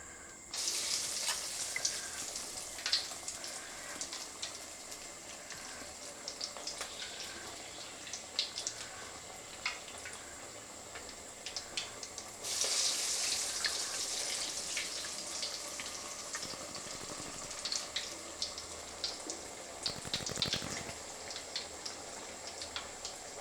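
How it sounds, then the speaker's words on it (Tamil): Vazhaipoo vadai (banana flower fritters) frying in hot oil, a steady close sizzle and crackle running throughout, growing busier and louder partway through as more batter goes in, with no talking. "எண்ணெய் காஞ்செடுத்து தட்டி போட்டுக்கலாம்."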